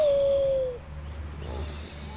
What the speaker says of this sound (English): Be my eyes, owl.